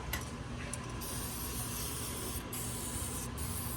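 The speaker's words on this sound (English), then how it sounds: "Just spray it everywhere." Continuous hissing of an aerosol spray can onto a 6.0 Powerstroke fuel injector terminal, close and steady, with a few brief pauses between bursts.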